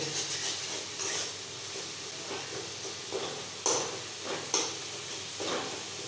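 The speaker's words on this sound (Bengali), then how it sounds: "এবার এটা ভালো করে আমি ভেজে দেবো।" Softened tomato fried and stirred in a pan for a potato curry, a faint steady sizzle with soft scraping strokes and a few sharper spatula knocks, alone.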